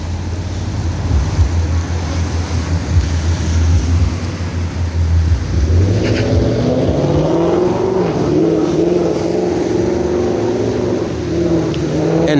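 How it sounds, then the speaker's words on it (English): Traffic noise from cars speeding up and down a street, a steady loud roar that rises as an engine revs and accelerates partway through, with no talking. "They speeding up and down the street"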